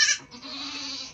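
A female 50-50 native and Anglo Nubian cross goat gives a single short, close bleat, followed by a fainter trailing call.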